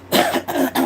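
A person coughs three times in quick succession, harsh and close.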